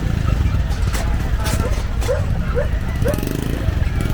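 Several short dog barks ring out at a busy pet market selling purebred dogs, heard amid a constant crowd murmur and background traffic while people talk nearby.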